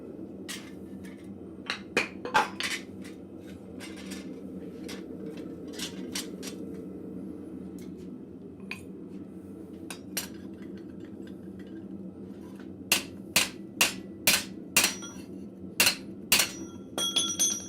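A cold chisel is hammered through cold scrap steel in a blacksmith shop: scattered sharp metallic strikes early on, then a quick regular run of loud blows near the end, over a steady low shop hum.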